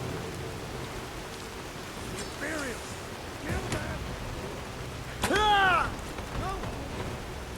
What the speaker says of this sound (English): Looks like the rain's stopping.